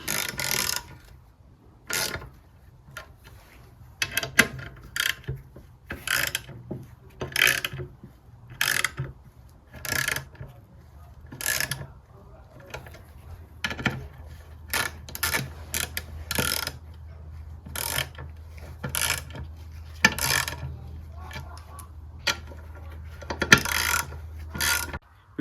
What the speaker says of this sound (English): Now just winding the bolts in